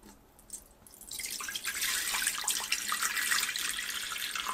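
Water is poured into an Instant Pot fitted with a rack. A few faint drips give way after a second to a steady, close splashing pour that keeps going until the end.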